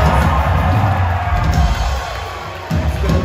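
Concert audience at the Great American Music Hall in San Francisco cheering and whooping loudly for a band, a dense close roar that dips briefly before surging again.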